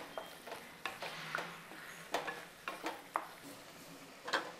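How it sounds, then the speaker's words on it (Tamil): Ground Chettinad chicken masala sautés in a pan with a soft sizzle, broken by repeated spoon scrapes and taps against the metal at a steady stirring rhythm. "ஸோ இந்த மசாலாவை நல்லா வதக்கிட்டு"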